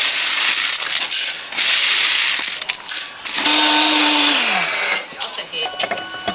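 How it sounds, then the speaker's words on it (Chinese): An electric grinder pulverizes dry-roasted soybeans into powder with a loud, harsh, gritty whir, rattling steadily, briefly settling into a smoother motor hum, then sputtering as it winds down. "黄豆炒香之后，我现在把它打成粉"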